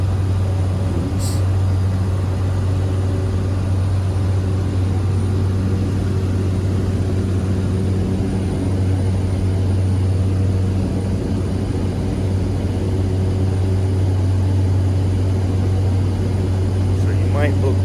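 A Mokulele Airlines propeller airplane drones steadily in flight over Hawaii, a constant low hum heard from inside the cabin for the whole stretch.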